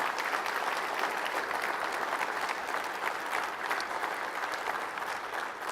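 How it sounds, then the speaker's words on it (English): A union summit audience applauds the executive board, dense steady clapping that fills the room evenly throughout, with no voices over it. "please give them a round of applause for everything they do for this union"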